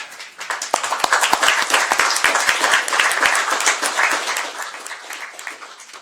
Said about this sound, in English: Please, if you want to applaud, I'd be happy with that.